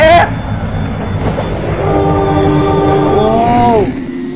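A KRDMCW diesel railcar passes close by with a loud, jet-like roar and a drawn-out horn blast that holds steady and then cuts off, with no one talking.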